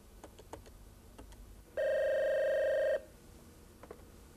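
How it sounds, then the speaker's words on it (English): Telephone ringing as a call is placed: a single sustained electronic ring tone of about one second, loud and alone, preceded and followed by faint clicks and background hiss. "I'm going to make a call to Robert."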